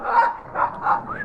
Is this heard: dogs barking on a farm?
yes